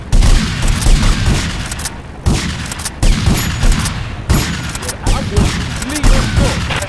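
Loud, dense gunfire from a Grand Theft Auto: Vice City rampage rattles in rapid, sustained bursts with booming blasts, broken by a few short pauses, close and dominant with little else heard.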